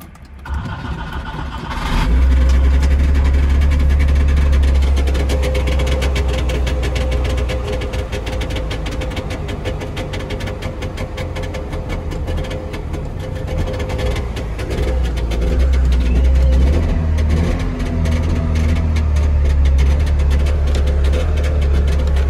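A Trabant 601 two-stroke engine starts after a couple of seconds and runs with a loud, buzzy, uneven idle, its low rumble swelling and dipping as the throttle is blipped, with no talk over it.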